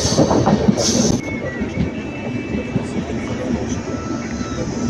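A train runs through a small railway station near Omalur without stopping, its rolling rumble loud and steady with a faint high wheel whine, heard close by from the platform or on board.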